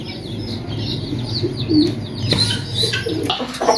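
Native chicks in a cage chirp in quick, high, overlapping peeps, with a few lower clucking and cooing calls mixed in, close and steady with no talking.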